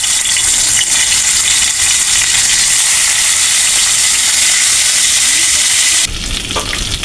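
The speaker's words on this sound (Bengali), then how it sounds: "তাহলে মাছগুলো আমি ভেজে নিব।" Rohu fish pieces frying in a hot wok give off a loud, steady sizzle and crackle that holds nearly unbroken, then drops abruptly to a quieter hiss near the end.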